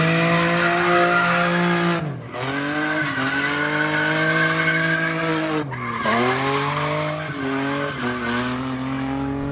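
A Nissan 350z drift car's tires screech and skid continuously under a high-revving engine, with the pitch dipping and rising sharply at gear changes, loud and close.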